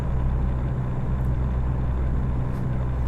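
Truck engine droning steadily at night in American Truck Simulator, a loud, constant low rumble with road noise, unbroken for the whole stretch and with no voices.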